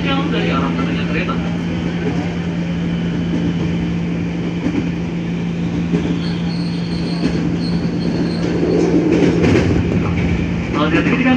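A KAI commuter line train pulls into a station, wheels squealing and a steady low rumble filling the whole stretch while a recorded platform announcement plays over it.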